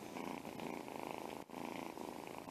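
A small cat purrs close up in a continuous soft, rhythmic rumble that is quiet and steady, with one brief pause.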